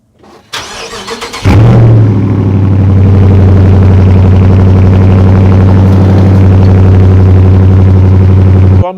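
A Dodge Challenger R/T engine fires up with a short crank, then idles steadily with a deep, loud stock exhaust drone that stays constant.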